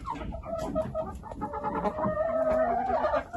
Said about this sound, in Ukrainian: даю нашим курям, бачите,